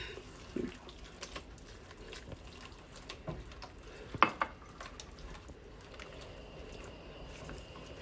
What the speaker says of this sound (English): And I have a 1/2 cup of water. I'm going to add that in there.